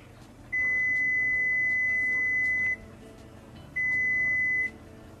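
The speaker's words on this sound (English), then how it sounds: "so my timer's going off" A kitchen timer goes off during home canning of garden chow chow, giving two bursts of steady, loud electronic beeping, a long one then a shorter one, over quiet kitchen background.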